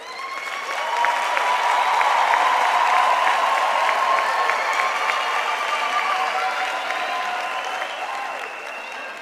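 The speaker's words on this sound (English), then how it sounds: "Can we give a round of applause to the faculty and to the graduates?" Sustained applause from a graduation ceremony audience at a university campus, a dense wash of clapping that swells after the first second, holds steady, then slowly thins toward the end.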